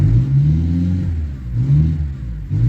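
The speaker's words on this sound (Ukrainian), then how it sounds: "от чуєте, мотор так як задушений" An engine revs unevenly nearby in a Mercedes Vito 638 van that won't gain revs and has no turbo boost, rising and falling in labored surges that sound strained and choked.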